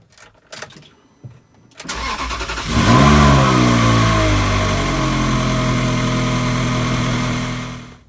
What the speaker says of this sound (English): we are going to fire up the car and leave it to idle for a few minutes